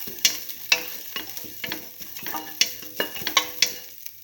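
Garlic and ginger sizzle in a hot pan for a stew, with repeated close clinks and scrapes of stirring over a continuous frying hiss, no voices.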